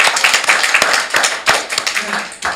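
People at a committee meeting give a short round of applause, a quick flurry of clapping with a few separate claps toward the end and some talk mixed in.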